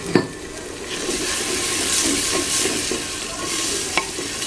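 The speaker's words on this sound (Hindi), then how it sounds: "ये साथ में अब टमाटर भी डाल देते हैं।" Tomatoes go into browned onions frying in a pot for aloo chicken shorba, giving a steady sizzle with stirring and occasional spoon knocks against the pot.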